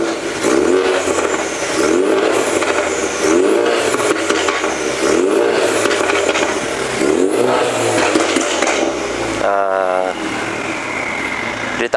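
Ford Mustang 2.3 engine revved repeatedly, loud rising and falling blips in a steady rhythm over about ten seconds, close by, with a short sharper burst near the end and people talking underneath.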